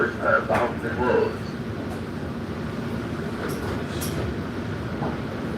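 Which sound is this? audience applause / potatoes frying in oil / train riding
train riding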